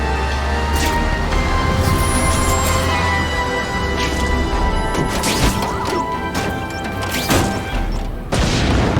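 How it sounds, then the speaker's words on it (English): Fireworks bursting in The Amazing Spider-Man 2 video game, a dense run of loud booms and crackling cracks layered over a low rumbling game backdrop, continuing throughout. "Huh, friendly neighborhood fireworks."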